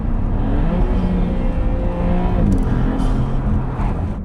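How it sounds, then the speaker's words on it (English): A 2025 Maserati GT2 Stradale with its turbocharged engine is heard from inside the cabin with the windows down, giving a loud, steady engine drone with rising whirring turbo tones and faint hissing bursts. "Listen to the turbos."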